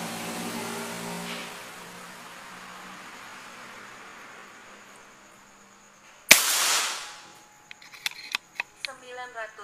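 One loud, abrupt crack from a Buru Taktikal LW airgun firing a 13-grain XSlug pellet in a velocity test breaks a quiet stretch, trailing into a brief rush and then several small clicks.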